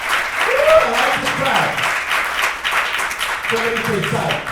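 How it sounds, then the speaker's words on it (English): A live audience at a motivational speech claps steadily in a dense, continuous wash, with a voice talking over it throughout. "You guys are clapping."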